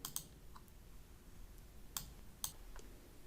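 Computer mouse clicks while building a report in desktop software, a few faint, sharp, isolated clicks spaced irregularly over a quiet background.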